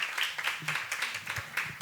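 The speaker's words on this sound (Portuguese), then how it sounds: "Vamos aplaudir o nosso primeiro secretário." A small audience at a youth chamber session at Colégio Americana claps for the first secretary, with scattered, uneven hand claps over a short stretch of room noise.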